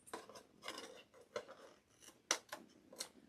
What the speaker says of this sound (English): So I found I have to rely on that, my rotary cutter.